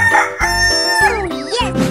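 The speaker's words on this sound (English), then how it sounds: "Chicken." A cartoon-style rooster crows cock-a-doodle-doo, loud and close, one drawn-out wavering call that rises and falls before a short clucking tail, with no talk over it.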